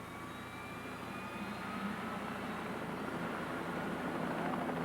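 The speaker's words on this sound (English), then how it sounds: "A jet helicopter carrying a doctor and a nurse takes off from Bismarck for a direct flight to the scene of a farm accident." A jet helicopter carrying a medical crew lifts off from Bismarck, North Dakota, a steady, fairly distant turbine roar with a faint whine that builds slightly, heard alone.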